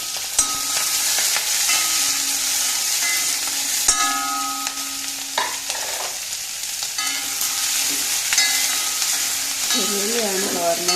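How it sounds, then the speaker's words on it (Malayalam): Chopped onion and green chili sauté in a pan for a kovakka thoran, giving a continuous bright sizzle with occasional scraping stirs and faint clinks, close and fairly loud, with no talking. "ഉള്ളിയും പച്ചമുളകും ആദ്യം വഴറ്റുക"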